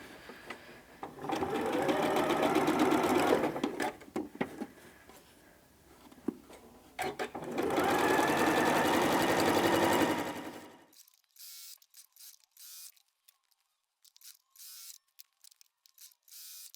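Stitching quilt block rows together, a sewing machine runs in two steady whirring bursts of a few seconds each, close by. Brief mechanical clicks and handling sounds come between the runs, and the clip ends in quiet.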